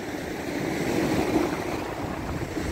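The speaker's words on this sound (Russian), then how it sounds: "Азовское море." Waves and wind on the Sea of Azov shore on a wintry March day, a steady roar of surf with gusty wind buffeting the microphone.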